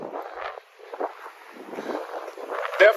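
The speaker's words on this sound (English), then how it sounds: "It's -5, but it's not too bad. A little bit windy." Gusts of wind buffet the microphone in uneven rushes, rising and falling over a few seconds with no other clear sounds, in -5 degree cold in Surgut, Siberia, Russia.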